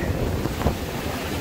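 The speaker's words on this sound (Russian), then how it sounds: "Идет волна." A sea wave rolls in on a beach in Bulgaria with a broad rushing wash over steady wind noise, swelling briefly midway before settling back.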